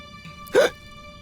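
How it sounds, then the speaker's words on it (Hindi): A single cartoon hiccup, a short squeaky upward gulp with a quick breathy burst, rises alone over a quiet background in an animated children's episode. "हिचकी बंद हो गई ना?"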